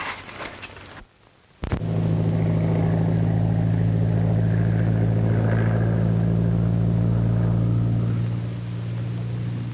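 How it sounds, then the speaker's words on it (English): A propeller patrol plane drones overhead in a 1930s setting, a loud, steady engine roar that starts abruptly after a short quiet gap and holds evenly, easing slightly toward the end, with no voices. "It's a plane."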